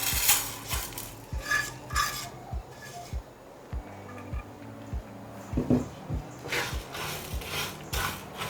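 Curry spices for chicken curry being dry-roasted slowly over low heat in a pot on the stove, with rhythmic scraping and clinking of a spoon against the pot, close and moderately loud.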